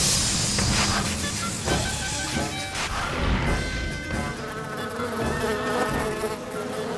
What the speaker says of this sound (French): Les abeilles!